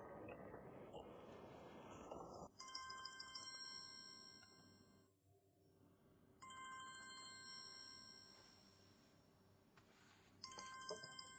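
A telephone rings in repeated electronic trills separated by short pauses, quiet but clear, after a stretch of louder background noise at the start.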